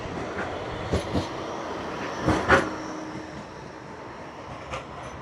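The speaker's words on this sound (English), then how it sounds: "here is the Blackpool Tram" Blackpool Tram rolling past on its street track, a low steady rumble with a few sharp clanks and knocks from the wheels, moderately close and heard alone without talk.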